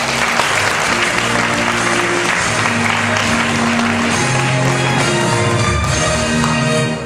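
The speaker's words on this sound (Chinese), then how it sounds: "我们用热情的掌声，这个舞蹈团体鸟语水舞集，热情的掌声欢迎啊" An audience at a corporate awards ceremony applauds warmly to welcome a dance troupe to the stage, with dense, steady, loud clapping throughout and a low murmur of music or crowd beneath it.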